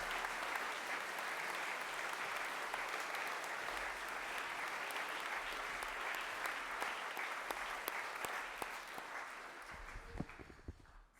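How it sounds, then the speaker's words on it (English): Sustained applause from a school assembly honouring the athletics coaches at a headmaster's gathering, steady and dense for about ten seconds before thinning into scattered claps and thumps at the end. "So a nice round of applause for all the coaches."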